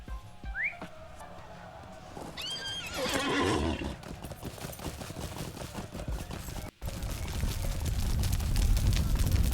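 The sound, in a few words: horse steed neighing and hooves in a video game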